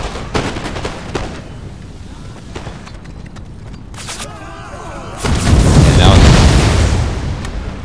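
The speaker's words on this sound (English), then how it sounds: "my grenadiers will gladly charge forward and chuck their grenades at these guys" Grenade blasts in the Empire Total War strategy game, a scattered series of sharp booms and pops followed by a louder, rumbling swell of explosions and battle noise.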